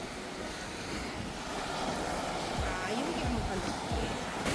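Surf washes steadily onto a small beach at Bocas del Toro, Panama, a continuous rushing wash with some wind buffeting the microphone and voices speaking over it.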